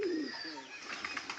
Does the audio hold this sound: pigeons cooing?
yes